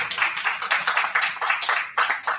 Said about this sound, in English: So again, another round of applause for Caleb.